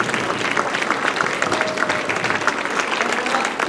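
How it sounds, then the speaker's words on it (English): Steady applause from an audience welcoming a woman up on stage at an opening-remarks event, dense clapping sustained throughout at even loudness with no talk over it. "give her a big round of applause"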